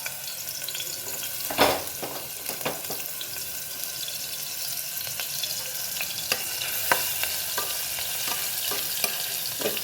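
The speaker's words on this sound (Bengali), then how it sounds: "এবারে আমি এই রসুন থেতো করে রেখেছি এটা ছেড়ে দিচ্ছি।" Crushed garlic frying in hot oil inside a pressure cooker gives a steady, close crackling sizzle, with a sharper burst near the start as it hits the oil and scattered small pops and scrapes throughout; no talking.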